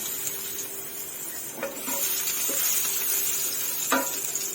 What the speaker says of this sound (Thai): ผัดกระเทียมให้เหลืองหอมก่อนค่ะ